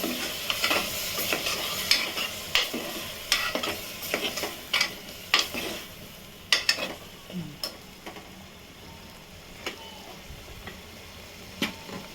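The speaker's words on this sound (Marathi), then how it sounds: "ह्या साईडला ना कोबीची भाजी शिजत ठेवली आहे" Cabbage sabzi cooks in a pan, with a spatula repeatedly scraping and clicking against the metal in irregular strokes over a soft, continuous sizzle. No voices.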